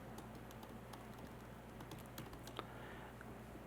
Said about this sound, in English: And I've typed it again, apologies.